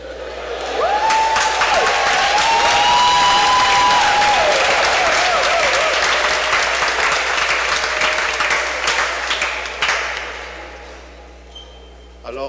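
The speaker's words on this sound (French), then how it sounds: "Alors avec ces applaudissements" A church congregation applauds at Sunday Mass, a loud, dense burst of clapping that swells, holds and then fades away over several seconds, with a ringing tone sustained beneath it.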